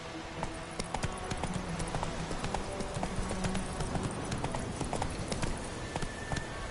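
A horse's hooves clip-clop steadily in The Witcher 3 video game, a brisk, evenly paced trot heard close and clear for several seconds with faint background ambience and no talk.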